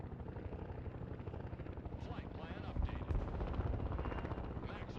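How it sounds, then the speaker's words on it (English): A military transport helicopter in the Broken Arrow video game drones steadily with a chopping rotor, loud and continuous, while gunfire crackles and a voice talks over it. "The helicopter in the middle there, just at the side of the screen, that one I think is carrying supplies"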